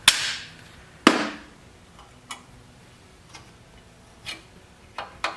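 Wrench working bolts loose from an engine holding a century-old spark plug, a sharp metallic clank followed by sparse, fainter ticks and clicks at irregular intervals, close and alone.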